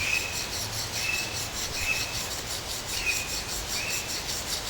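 A bushcraft knife is drawn across a Fallkniven DC-4 sharpening stone in slow, rhythmic rasping strokes, about five in a row, close up over a steady hiss.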